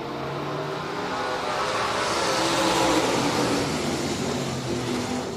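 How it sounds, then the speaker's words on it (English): Dirt track race truck engine at Heart O' Texas Speedway in the Texas Dirt Truck Series, a steady loud roar that swells in the middle as the truck runs past, heard alone without talk. "Y'all listen to that hot rod as it goes."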